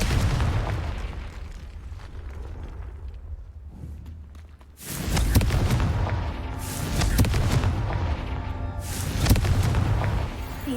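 Fiery Confringo spell blasts in Hogwarts Legacy, heavy booming explosions with a deep rumble, one loud burst erupting midway and further blasts following, close and forceful with no talk.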